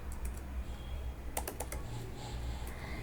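Keys on a computer keyboard clatter as code is typed, with short bursts of several quick clicks separated by pauses, heard close over a quiet room hum.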